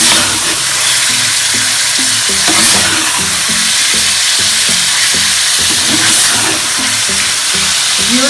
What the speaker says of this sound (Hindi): दो से 3 मिनट तक भून लेंगे।